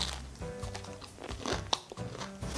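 A crunchy breaded snack with a cheddar filling being bitten, giving a few close crisp crunches and soft chewing sounds, quiet and without speech.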